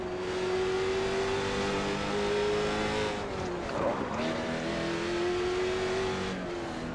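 Late model stock cars racing in iRacing at South Boston, with a steady engine drone that dips around a brief contact and scrape between two cars, then the engines pick back up, loud and close throughout.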